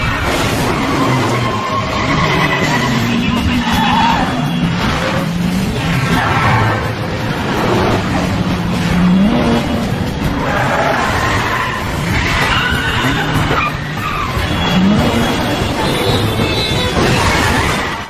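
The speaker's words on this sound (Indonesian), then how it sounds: "Kiril juga merampas mobil milik pengendara lain sehingga kini Jason dikejar oleh Kiril dan petugas kepolisian" Tires skid and screech in a movie car chase through city streets, with engines roaring and crashes and shattering impacts under a dense, loud action score, continuous throughout.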